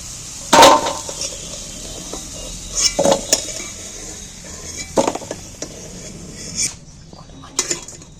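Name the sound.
fried potatoes lifted out of the pan into a container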